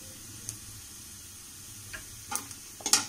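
Onions fry quietly in a pan with cumin seeds added, a soft, low sizzle broken by a few sharp clinks and scrapes of a utensil toward the end.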